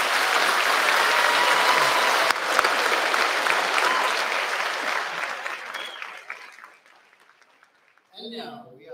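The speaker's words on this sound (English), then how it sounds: "Let's have another round of applause for these graduates" Graduation ceremony audience applauding graduates, a dense, sustained round of clapping that gradually fades out, followed by a brief spoken voice at the end.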